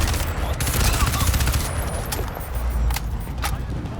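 Rapid bursts of automatic gunfire in Crysis 2 mixed with the mechanical clatter of a weapon reload, dense and continuous with sharp transients throughout.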